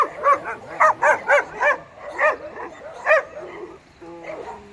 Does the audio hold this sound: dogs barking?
yes